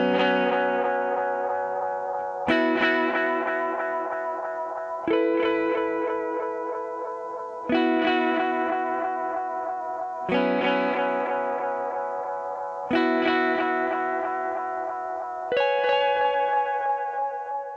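Guitar chords played through a Swedish Amtech analog delay, strummed in an even repeating pattern about every two and a half seconds, each chord ringing out with trailing echoes and a wet, slightly distorted wash, no voices.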